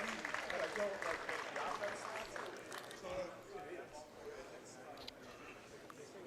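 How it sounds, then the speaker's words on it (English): Steady applause from a home crowd in a gym rises for the cheerleaders at a boys' varsity high school basketball game, with a commentator talking over it as the clapping slowly fades. "a very good crowd giving them a nice hand there"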